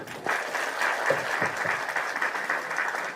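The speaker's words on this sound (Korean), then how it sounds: "의사봉 대신에 우리 의원님들의 박수를 대신하도록 하겠습니다" Party lawmakers clap together at a Democratic Party supreme council meeting in place of striking the gavel, a steady burst of applause from a room full of people that holds even for about three seconds.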